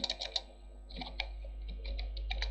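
Typing on a computer keyboard while entering Java code, a run of quick, fairly faint clicks in short bursts, heard alone.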